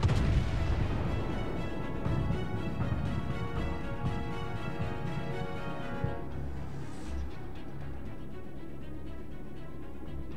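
Naval artillery from warship guns in World of Warships, heavy booming salvos rolling together into a dense, continuous roar that eases into a lower rumble toward the end, with no talking.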